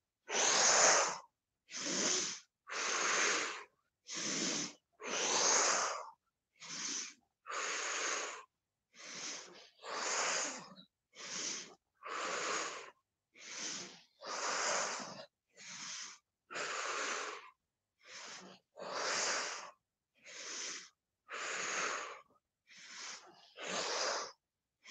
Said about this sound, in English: Inhale, exhale, inhale